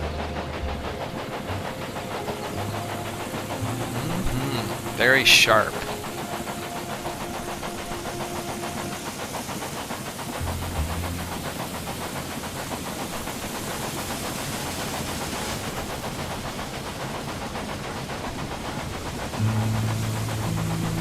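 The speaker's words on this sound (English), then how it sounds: "This is our first express train." An express train steam engine runs in Railway Empire 2 with a steady mechanical drone and rhythmic chugging. A brief whistle-like tone sounds early, a voice speaks briefly over it, and it ends in a low rumble.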